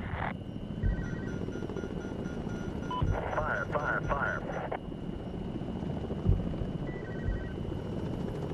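The AH-64 Apache attack helicopter in Medal of Honor (2010) over the Shahikot Valley, a steady rotor drone throughout with radio chatter and beeping cockpit tones layered on top.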